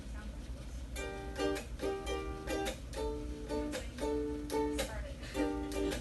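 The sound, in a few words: strummed chords with muted chuck strum pattern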